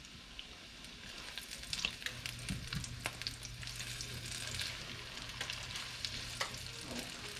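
Crab cakes searing in a frying pan, a steady, fairly quiet sizzle with soft crackles and a few light scrapes and clinks, no voices.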